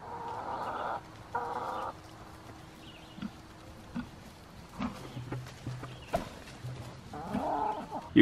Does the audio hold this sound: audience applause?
no